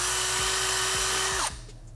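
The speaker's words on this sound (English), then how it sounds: "I outfitted my drill with a 1/4-inch bit. I will enlarge the hole that I previously made." A power drill fitted with a 1/4-inch bit enlarges an existing hole during a turn signal install on a 2022+ Yamaha MT-10, a steady high whine that winds down and stops abruptly near the end.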